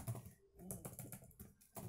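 Fast typing on a computer keyboard while entering Java code in the NetBeans editor, a steady patter of close key clicks with brief pauses and no talking.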